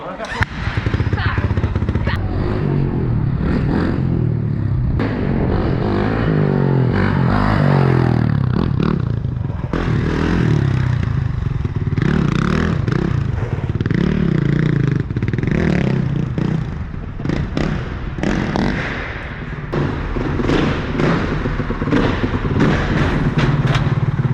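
A 500cc four-stroke motorcycle engine roars loudly and steadily on a dyno, rising and falling in revs, with thuds and clatter nearby and people talking over it.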